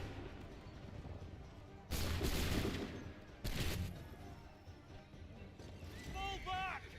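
Musket volleys in the Assassin's Creed III video game: two loud massed bursts of gunfire about 1.5 seconds apart, each ringing out for a moment, then quieter battlefield ambience with faint calls.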